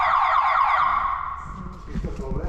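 A car alarm blares in loud, rapid electronic wails for about a second and a half, then stops, leaving road and engine noise with faint talk nearby.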